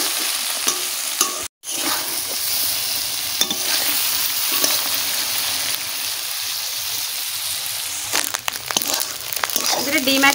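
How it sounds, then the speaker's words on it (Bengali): Egg and onion seasoned with turmeric and salt sizzle in a pan while being stirred and scraped, a continuous close frying hiss broken by a brief dropout and clattering stirs. "ডিম আর পেঁয়াজ ভাজা হয়ে গেছে"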